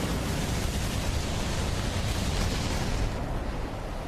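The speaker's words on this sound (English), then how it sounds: "Cannon away." A naval artillery cannon fires in the Battlestations Midway game, heard as a loud, sustained broadband roar and rumble that carries for several seconds before easing slightly at the end, with no voices.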